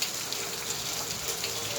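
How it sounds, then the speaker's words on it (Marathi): June rain falls outdoors with a steady, even hiss, heard briefly on its own. "चालू झाला पाऊस जरा."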